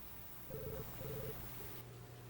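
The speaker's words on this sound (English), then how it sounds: "The phone is ringing." Phone tones sound faint and distant under a steady hum, two short electronic bursts in quick succession followed by a weaker third, with no one speaking.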